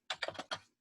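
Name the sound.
typing on computer keyboard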